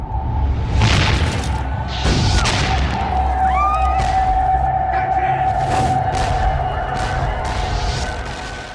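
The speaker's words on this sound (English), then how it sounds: "On July 12th, 2 British warships opened fire on New York City." Two British warships firing cannons on New York City in a dramatised scene, with deep booming rumbles and whooshing projectiles over a sustained tonal drone, loud and layered throughout.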